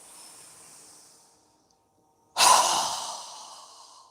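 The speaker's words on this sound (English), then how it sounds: "inhale through our nose as we lift our hands above our head, and then exhale with our mouth open wide with a strong exhale" A deep yoga breath, a soft nasal inhale fading into near silence, then a strong, loud open-mouth exhale that rushes out close by and trails off slowly.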